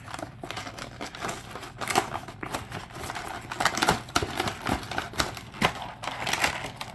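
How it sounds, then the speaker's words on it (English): Plastic and cardboard packaging of a 2022 Matchbox Coffee Cruisers five-pack is torn open in a string of close, crinkly, crackling rips and crunches lasting several seconds, with no talking. "So let's crack open this pack and get to it."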